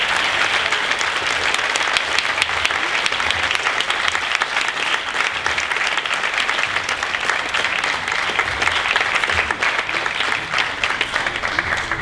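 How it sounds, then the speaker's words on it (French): An audience at the Hermética science and consciousness festival applauds its speakers with sustained, dense clapping that holds steady for about twelve seconds, loud and continuous throughout. "On peut les applaudir."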